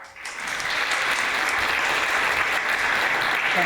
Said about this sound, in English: please give a round of applause for Robert Spano, for Raymond Zakaria,